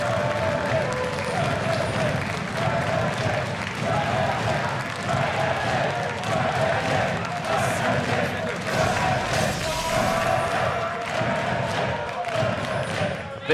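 A large indoor esports arena crowd at a League of Legends match roars and chants continuously, with rhythmic clapping and cheering swelling throughout, and voices mixed in.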